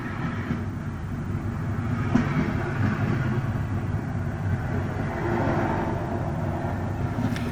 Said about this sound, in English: She opens both layers and the sound of trains burst forth.